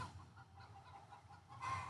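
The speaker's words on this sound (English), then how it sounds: "The chickens are quite noisy today." Chickens cluck softly and steadily in the background, a low murmur of fowl noises with a slightly louder burst near the end.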